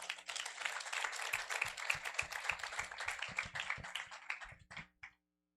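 An audience at a sustainability conference closing ceremony breaks into steady applause, many hands clapping densely for several seconds before it tapers off and stops abruptly.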